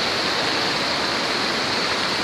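Flood water rushes through a street in a steady, loud broadband roar, a continuous close torrent with no breaks and no voices.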